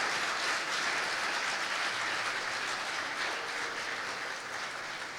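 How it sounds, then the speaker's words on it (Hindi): A church congregation claps loudly for God during a worship service, a dense, steady wash of applause running the whole time with no voices over it. "जोरदार तालियां अपने खुदा के लिए।"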